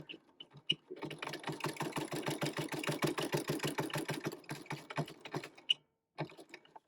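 A sewing machine that has been running clunky stitches a gift card holder, a fast, steady run of mechanical clacks lasting several seconds, close up, then slowing into a few separate stitches and brief stops.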